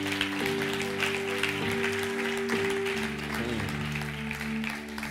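Church congregation applauding during a French-language sermon, a steady wash of clapping throughout over sustained organ or keyboard tones, with the preacher's voice faintly underneath.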